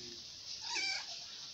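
A house cat gives a single short meow, faint and close, during a home demonstration of steel marbles.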